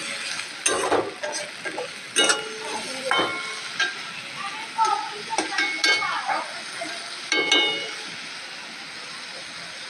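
Potatoes fry in refined oil with green chili and onion, a soft background sizzle broken by repeated scraping and stirring clatters of a utensil in the pan, close and irregular.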